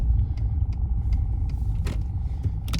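Cars rumbling past nearby in Port Aransas near the Gulf of Mexico, a steady low road roar with faint ticking sounds above it, no voices.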